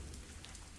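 Steady rain downpour pours down in a broad, even hiss, a continuous wash of falling water with no pauses and no voices.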